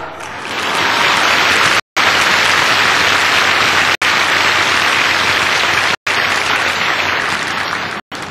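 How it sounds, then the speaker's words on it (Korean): Loud, dense applause from a church congregation fills the space, broken by several brief gaps of silence. "이렇게 박수를 속으로 세 번 치다니 정말로 귀하십니다."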